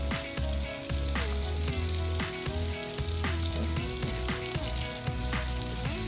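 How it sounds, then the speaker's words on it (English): Chopped garlic sizzling in melted butter in a cast iron pan, a loud steady crackle with occasional stirring scrapes, up close and continuous. "we've got 2 chopped garlic cloves. Just going to add that to the pan. I'm going to cook these off for about a minute."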